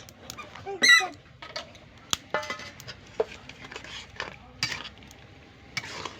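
Spoon stirring tomato chutney with dates, cashews and raisins in a pot, giving scattered soft scrapes and clinks against the pan with a sharper knock or two, fairly close and quiet, no talk.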